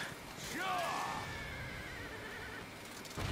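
A horse neighs in the video game Fire Emblem Warriors, a clear whinny near the start over quiet game sound, with faint hoof clatter.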